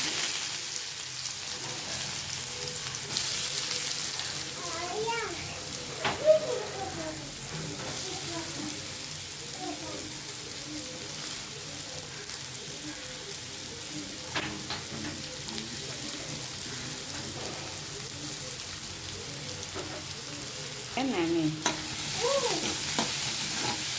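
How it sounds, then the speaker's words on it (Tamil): Onions sautéing with cumin and fenugreek in a pan give a continuous close sizzle with intermittent stirring scrapes, and a voice talks quietly over the cooking sounds at times. "வதக்கிக்கலாங்க. நல்லா வதங்கட்டும்."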